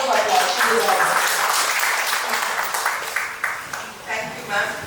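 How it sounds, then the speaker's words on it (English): A hall audience claps steadily at a book launch for Secrets of the Universe, moderately loud applause that tapers slightly toward the end. "Let's give her a round of applause."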